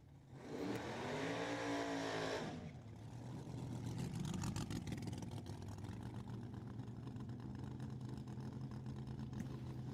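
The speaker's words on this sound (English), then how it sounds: "Healthy burnout from that Camaro. Thing sounds mean and lean." Camaro drag car at a drag strip doing a burnout: a loud, sustained engine roar with rising revs for about two seconds, then a steady rough tire-spinning drone that continues through the rest.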